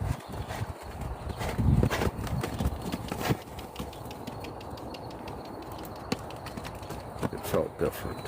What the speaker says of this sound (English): This horse is probably not saddle broke.